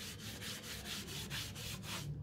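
A cloth rubs colourwash wax into a wooden surface, a steady close scrubbing swish that pulses back and forth in quick regular strokes, fairly quiet and with no voices.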